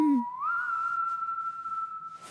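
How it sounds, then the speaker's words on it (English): A cartoon egg gives off a steady, clear whistle that slides up in pitch at the start, then holds one sustained tone for about two seconds, close and alone. "Did the egg just whistle?"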